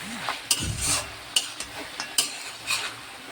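Fried lentil dumplings (bori) being stirred into a vegetable curry in a pan: a soft sizzle under repeated scraping strokes and a few sharp utensil clicks against the pot, close by, no talking.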